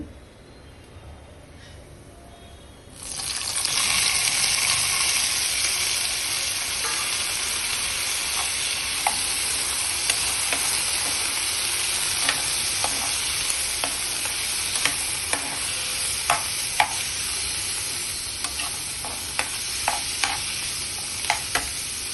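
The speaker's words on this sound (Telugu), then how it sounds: "ఆయిల్ హీట్ అయిన తర్వాత అల్లం వేసుకోవాలండి అల్లం వేగిన తర్వాత కట్ చేసి పెట్టుకున్న టమోటాలు వేసుకోవాలి" Ginger and chopped tomatoes drop into hot oil and burst into a loud, continuous sizzle that starts abruptly and holds steady, with intermittent clicks of stirring and spattering throughout.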